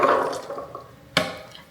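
Rinse water from canned chickpeas drains away in a kitchen, with a splashing pour that fades into a few faint drips before a short sharp splash at the end.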